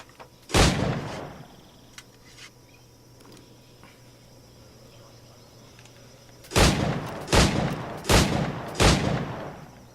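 Pistol gunshots in the pirate-era action game Assassin's Creed IV Black Flag: one sharp shot, a long quiet gap with faint ambience and insect chirps, then four loud shots fired in quick succession.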